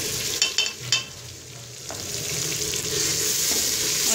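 Spices fried with tomatoes, green chilies, garlic and salt for an arvi chicken curry are stirred in a pan, with a few sharp scrapes early on and then a steady, loud sizzle.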